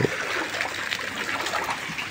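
Knee-deep floodwater after rain churns and splashes in a continuous watery rush, close and fairly loud, with no voices.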